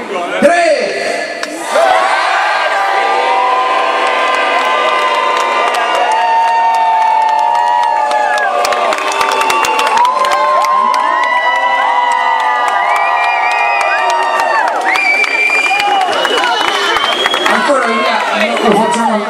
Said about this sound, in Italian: Deve essere un urlo devastante.